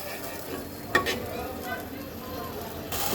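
Spice masala fries in oil in a pan while being stirred, giving a low continuous sizzle with a few scraping spoon strokes, one sharper clink near the start.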